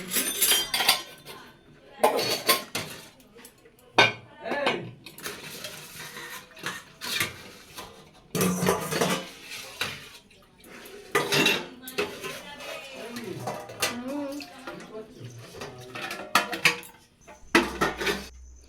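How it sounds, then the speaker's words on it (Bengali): Metal pots and dishes are rinsed under tap water, a close clatter of clanking and clinking in uneven bursts over running and splashing water, with a faint voice now and then. "ওই জন্য একটু কলের জল দিয়ে ধুয়ে নিলাম পরিষ্কার করে"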